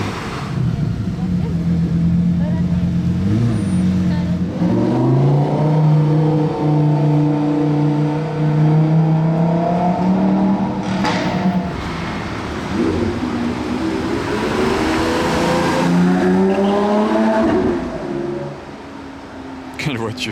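Ferrari supercars, a V12 and a V8, rev and accelerate past on a Monaco street at night, with loud, climbing engine notes and gear changes rising and falling close by, and someone talking over them.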